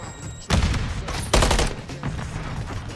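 Rapid bursts of gunfire from headshot shooting in Call of Duty: Modern Warfare III, two loud close volleys with rattling automatic fire trailing off, no talk.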